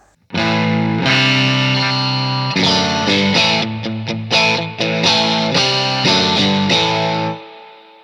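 A distorted electric guitar through an Origin Effects Revival Drive overdrive pedal on its silicon rectifier setting, playing sustained chords and short choppy stabs, loud and gritty with a warm, compressed tone, ending on a held chord.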